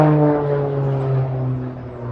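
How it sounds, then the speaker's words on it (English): Training planes pass overhead, a droning engine hum with strong steady tones that fades slowly as the aircraft move away, with no talk. "sorry, training planes, training for the next war"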